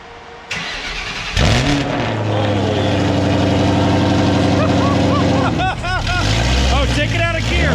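A Ford Mustang GT500 fitted with a Corsa Sport exhaust cranks and fires up loudly, then settles into a deep, steady rumbling idle. Voices talk and exclaim over the engine near the end.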